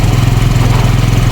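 A Cruisym 150 scooter engine idles loud and close, a steady low throbbing drone with an even pulsing rhythm throughout.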